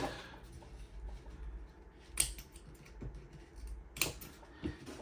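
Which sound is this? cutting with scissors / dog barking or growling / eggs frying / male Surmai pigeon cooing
cutting with scissors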